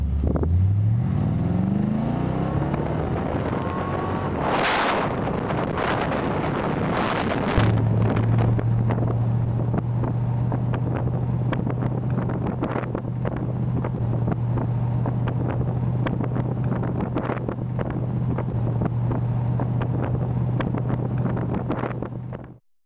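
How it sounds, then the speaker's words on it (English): A Chevrolet Corvette is driven on a road near Cairns, a steady engine drone and low hum with heavy wind rushing past the microphone, plus a brief rising swoosh early on. "Here I am driving Rob's Corvette again"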